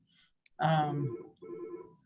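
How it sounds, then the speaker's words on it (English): A mobile phone rings during an online round-table call, its tonal ring blending with a voice speaking, then returning more quietly after a short gap. "Sorry if my phone was ringing in your ear."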